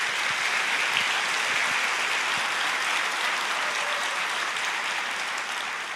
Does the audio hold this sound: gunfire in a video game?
no